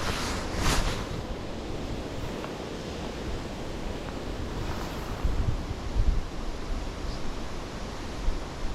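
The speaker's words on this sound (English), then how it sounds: "Just try to get comfortable with the westerly wind." Westerly wind blowing steadily by the water while fly casting, a loud continuous rush with gusts buffeting the microphone over lapping waves, no voices.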